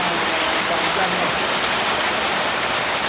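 Heavy rain during a rainy season, a loud, steady, unbroken hiss of falling water that fills the whole moment.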